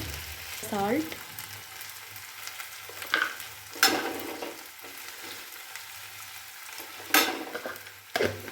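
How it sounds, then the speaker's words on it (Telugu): Potatoes and okra fry in a pan, a steady low sizzle broken by a few sharp scrapes and clatters of a utensil stirring against the metal, with a brief voice near the start. "ఇప్పుడు ఇది ఫ్రై అవుతుంది."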